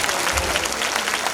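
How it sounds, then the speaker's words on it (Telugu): A crowd claps together at an outdoor-style celebration meeting, a brief burst of dense, steady applause filling the whole moment. "ఎవరికి నచ్చితే వాళ్ళు ఒకసారి క్లాప్స్ కొట్టండి."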